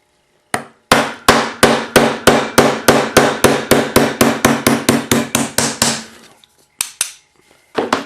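Hammer tapping out a roll pin from a Sig Sauer P225 pistol set over a hole in a hard cutting board, a fast steady series of about twenty sharp metallic strikes that tail off, then a few isolated taps.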